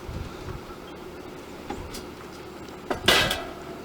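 A metal pan set down inside a Weber kettle grill, a single clattering clank near the end, close and fairly loud over quiet background hiss, with a couple of softer knocks earlier.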